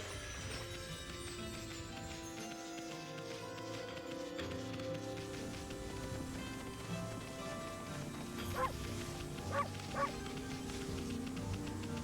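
A cartoon dog barks in the video game Okami, with a few short yips near the end over a steady musical backdrop, fairly faint in the mix.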